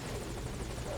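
A helicopter in Metal Gear Solid V: Ground Zeroes hovers close by, its loud, continuous rotor roar and rhythmic blade chop filling the whole short moment with no voices.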